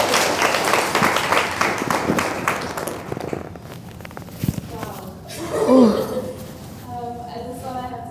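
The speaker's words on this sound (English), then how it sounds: "What about another round of applause?" Audience applause at a college alumni fireside chat event, a brisk burst of clapping that fades out after a few seconds, followed by a voice speaking.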